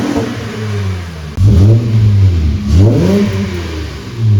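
A 2008 Acura MDX with an RV6 J-pipe idles with a deep, loud exhaust drone, then is revved sharply twice, each blip rising and falling in pitch before settling back to idle, close by with no talking.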